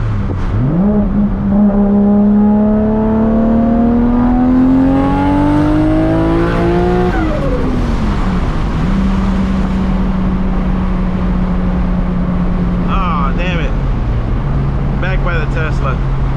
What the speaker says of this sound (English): Some beautiful turbo fuel injected noises for you.